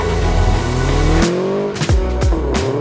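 A turbocharged 2022 Subaru BRZ with an Adro widebody and JDL turbo kit revs loudly up close, its engine note climbing and then dropping sharply through several quick shifts.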